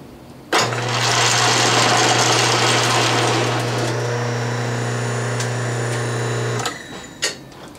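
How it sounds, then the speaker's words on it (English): An Atlas metal lathe cuts steel stock with a loud steady whine and motor hum that runs for several seconds, then ends abruptly as the cutter stalls and the belts slip, followed by a brief clunk. "Okay, I stalled out the lathe"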